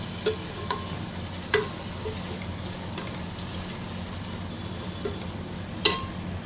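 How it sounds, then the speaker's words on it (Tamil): Tomatoes, onion and ginger garlic paste sauté in a pan for biryani, giving a steady low frying sizzle with occasional light spatula clinks scattered across the span and no talking. "இது கொஞ்சம் பேஸ்ட் வர மாதிரி வதங்கிடுறோம். நம்ம வதக்கிறோம்."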